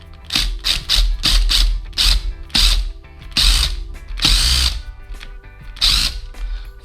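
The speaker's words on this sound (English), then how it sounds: "I'm only going to drill this far into the wood." A cordless power drill bores into wood in a string of short, loud, stuttering bursts, each about half a second, with a longer run near the end, heard up close.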